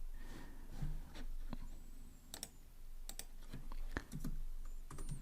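Computer keyboard keys are typed in irregular bursts of crisp clicks, close and fairly quiet, over a soft room background.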